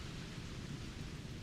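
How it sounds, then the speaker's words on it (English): Steady rain with a low rumble of thunder in the game Starfield, a dense, continuous wash of noise with no voices. "It is, it's raining and lightning and..."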